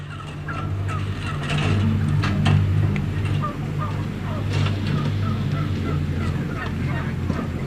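Tens of thousands of turkeys in an intensive livestock barn gobble in overlapping bursts over a constant low mechanical hum, a dense, busy chorus that never pauses.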